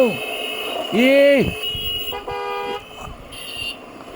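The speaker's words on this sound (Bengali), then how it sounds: "আমার হর্ন শুনে সবাই কেঁপে যায়" Loud car horn honks in stuck road traffic behind a truck and tractor, a long blare followed by shorter toots, with a voice talking in between.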